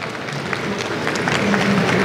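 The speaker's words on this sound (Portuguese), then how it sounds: "Palmas para ela," Audience applause at a tech conference panel on education technology, a steady mass of clapping from the crowd that builds slightly toward the end.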